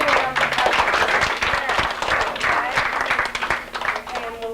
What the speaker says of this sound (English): All you girls give a round of applause to your